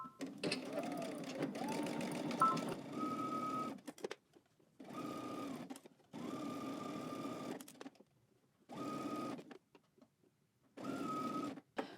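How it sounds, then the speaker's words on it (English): A sewing machine stitches a tiered dress seam at a 5/8-inch allowance, back-stitching at the start before pivoting, in five or six separate close whirring bursts broken by near-silent pauses while the fabric is turned. "back stitch at the beginning, and then we're going to pivot 5/8 of an inch from the top"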